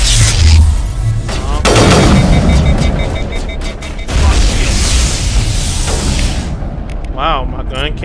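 Gunfire in Mass Effect Legendary Edition: loud, dense bursts of rapid shots and booming impacts in a chaotic firefight, close and sustained across the whole stretch, with a voice talking over parts of it.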